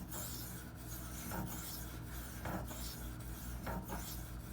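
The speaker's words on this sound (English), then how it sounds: "This is obviously my 2500 grit. It's going to be the final stone I sharpen on tonight." Spyderco Endura knife with K390 steel drawn across a 2500 grit sharpening stone, quiet rhythmic rasping strokes repeating about once a second, close up with no talk.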